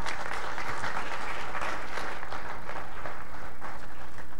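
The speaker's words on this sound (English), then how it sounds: "You should not applaud before you hear someone speak" Full, continuous applause from an audience welcoming a speaker at a science talk, loud and even from start to finish with no speech heard.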